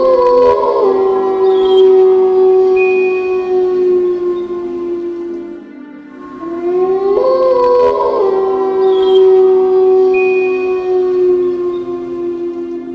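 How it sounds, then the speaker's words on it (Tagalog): Dogs howl at night in long, sustained wailing tones with wavering pitch, two drawn-out rising and falling rounds separated by a brief dip, loud and alone. "patse ating asong magbitawul ng bengi"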